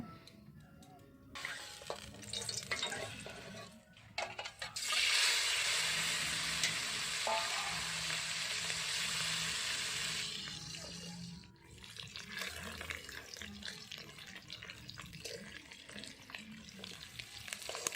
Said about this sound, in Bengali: তেল গরম হয়ে গেছে ডিমগুলো ভাজা করে নেব